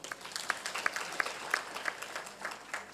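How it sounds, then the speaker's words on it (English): Scattered clapping from a health conference audience, a handful of hands striking in loose, uneven bursts at moderate distance, fairly quiet and thin rather than a full ovation. "Let's clap for them."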